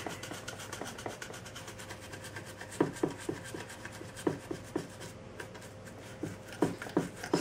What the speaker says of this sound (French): Je vais appliquer sur la réplique avec ma brosse à dents le White Spirit et vous allez voir que la peinture s'en va.